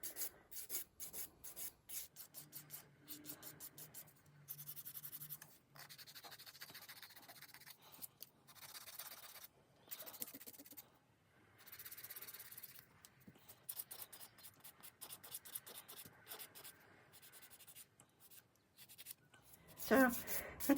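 Acrylic nails being filed, with quick repeated rasping strokes in irregular bursts and short pauses between them, close and fairly faint.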